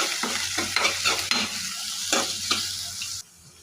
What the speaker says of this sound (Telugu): అవి కొద్దిగా వేగిన తర్వాత ఉల్లిపాయ కూడా వేసుకోవాలి.